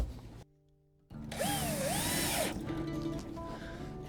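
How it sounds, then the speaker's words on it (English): A power drill drives screws into an epoxy flange on a trimaran. After a brief quiet gap it whines up loudly and close, its pitch rising and dipping as it runs, then settles into a lower steady hum. "we're gonna put a couple screws in to make sure that it stays very nicely down"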